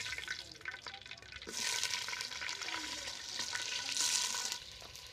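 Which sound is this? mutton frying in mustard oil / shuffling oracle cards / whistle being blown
mutton frying in mustard oil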